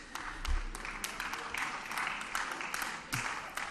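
Applause from members fills a session of the Berlin House of Representatives, broad and sustained clapping with a few louder bursts, somewhat distant and reverberant.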